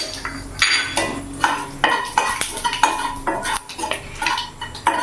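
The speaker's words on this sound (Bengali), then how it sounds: "এখানে জিরে আর তেজপাতা আমি ফোড়ন দিয়ে দিলাম।" Cumin seeds and bay leaf crackle in hot oil in a pan as a spoon stirs and scrapes against the metal, with irregular clinks and clatters over a soft continuous sizzle.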